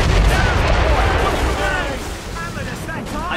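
Mortar fire from ships in a naval battle in Assassin's Creed Rogue, with heavy booming blasts and rumbling explosions that stay loud and dense, a crew voice faintly mixed under the barrage.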